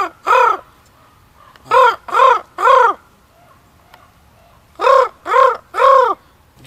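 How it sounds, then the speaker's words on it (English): A wild raven on a snowy winter trail croaks in two loud, close bursts of three harsh calls each, separated by a quiet pause. "Do y'all hear me just have a conversation with a raven?"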